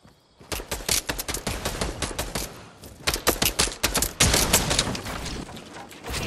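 Rapid bursts of gunfire from the video game Playground, loud and close, with dense clusters of shots running almost continuously and growing heavier toward the end.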